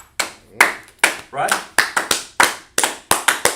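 Bursts of hand clapping from a small group during a Hebrew numbers lesson, arriving in short uneven rounds and mixed with speech throughout.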